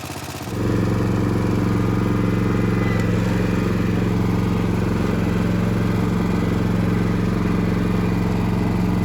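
A John Deere 300 lawn tractor engine, just revived with a fresh battery and gas, starts up and settles into a loud, steady idle with a low rumbling drone and light mechanical clatter that runs unbroken to the end.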